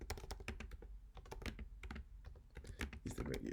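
Rapid typing on a computer keyboard while entering code for a sphere volume calculator, brisk irregular key clicks heard close up, with faint talking in the background.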